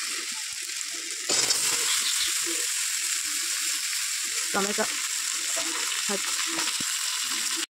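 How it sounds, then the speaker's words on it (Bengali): Pumpkin and eggplant fry in spice paste in a kadai with a steady, bright sizzle. A louder burst comes as the pieces go in, and scattered stirring scrapes and clinks follow, close by. "কুমড়ো আর বেগুন আমি কড়াই দিয়ে দিয়েছি"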